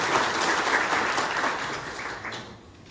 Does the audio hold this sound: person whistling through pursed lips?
no